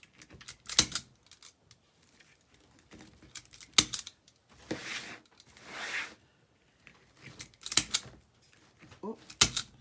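Scissors snip through ribbon tails on a handmade craft flower, a few sharp crisp cuts spaced apart at close range with quiet rustling between them.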